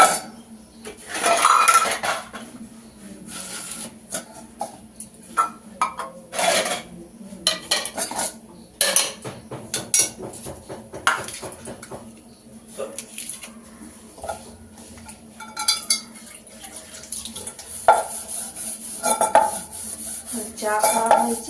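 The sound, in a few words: washing dishes, pots and utensils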